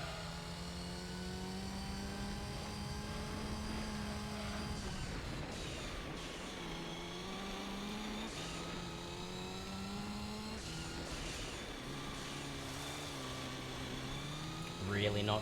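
A race car in the video game Gran Turismo 3 on a rally course, its engine droning steadily with pitch sweeping up and down through throttle changes and gear shifts while drifting, continuous throughout.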